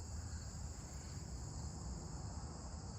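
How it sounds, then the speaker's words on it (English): A steady, high-pitched chorus of crickets chirping continuously on a Coney Island street, faint and distant, with no voices. "Crickets now."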